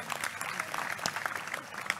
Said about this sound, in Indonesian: Tepuk tangan untuk kelompok pertama.